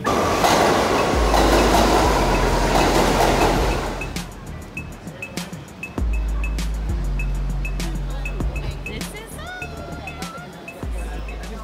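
A New York City subway train rumbles and clatters close by, loud at first then easing into rhythmic clickety-clack of wheels over rail joints with squeals and bangs, while people talk nearby.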